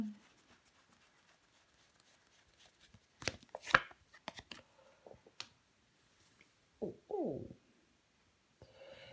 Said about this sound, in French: On va recouvrir le 10 de coupe